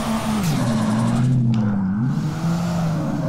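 A car engine revs in a drift simulator video game, its steady tone rising and falling with throttle as the car slides through a drift, loud and continuous with no talk.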